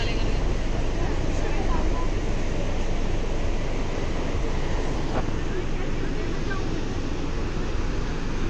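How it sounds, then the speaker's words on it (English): Ocean waves wash against a rocky shore in Goa, a steady roaring surf mixed with heavy wind rumble on the microphone, constant and loud throughout. "So guys, look at the waves."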